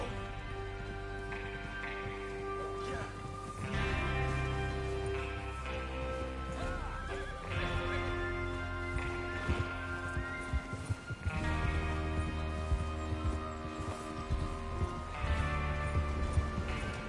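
Horses neighing and whinnying over a steady background of hoofbeats in the video game Red Dead Redemption 2, with repeated calls rising and falling across a long stretch.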